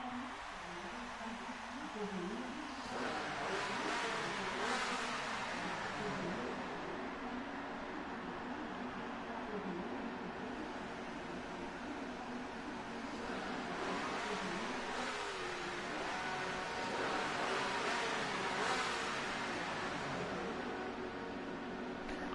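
Historic race cars leave the pit lane in the Speed Force racing video game, with engines droning and rising in swells throughout under a commentator's steady talk.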